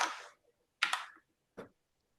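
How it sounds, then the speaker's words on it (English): Fast, furious typing on a computer keyboard comes through an online meeting in quick bursts of clicking clatter, with short silent gaps between them. "Somebody's typing very furiously."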